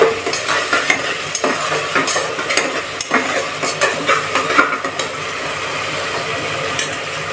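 Onion and tomato sautéing in a pan for pav bhaji while being mixed, a loud close sizzle with steady scraping strokes of the spoon throughout and no talking.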